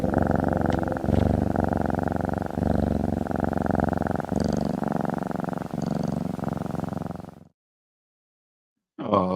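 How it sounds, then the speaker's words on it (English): A cat purring close up, a steady rhythmic low rumble that continues for several seconds, then stops abruptly into silence. "It's got the little purring at the end."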